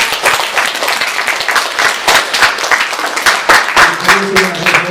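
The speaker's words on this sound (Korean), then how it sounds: "다 같이 박수로 축하하도록 하겠습니다." A church congregation claps together to celebrate members' birthdays at a Sunday service, a dense steady round of applause lasting throughout, with a few voices rising near the end.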